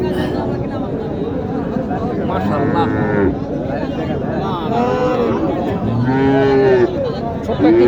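Sahiwal cows moo repeatedly at a busy rural cattle market in Naogaon, with several drawn-out calls rising over a steady background of crowd chatter and people talking.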